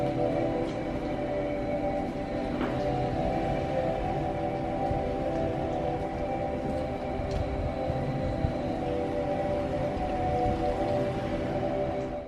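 A 2019 Honda Insight Touring hybrid in EV mode emitting its low-speed pedestrian warning sound outside the car, a steady, droning hum with layered tones that holds evenly throughout, with no talking.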